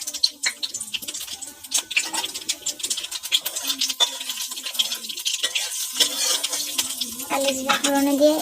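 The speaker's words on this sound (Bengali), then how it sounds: "এবার আমি কালি জিরা ফোড়নে দিয়ে" Nigella seeds temper in hot oil in a pan for a fish curry, with a light crackling sizzle and quick spoon clinks and stirring, close and fairly loud.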